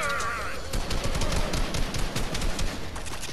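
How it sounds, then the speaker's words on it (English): Rapid gunfire from the Fortnite video game, a dense burst of repeated shots filling the whole stretch, loud and close, with a voice briefly audible near the start. "Why is he shooting?"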